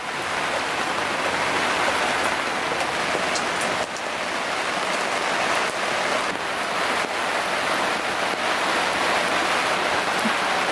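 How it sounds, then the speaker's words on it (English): Rain falls steadily on surfaces in Mindelo, Cape Verde, a dense, close, constant patter with scattered louder drops and no talk. "It rarely rains in Mindelo, so listen to this beautiful music with me for a little while."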